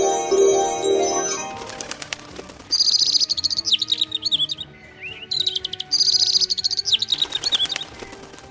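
A bird chirps in two long runs of rapid, bright, close tweets, after a few seconds of soft tonal music and rustling.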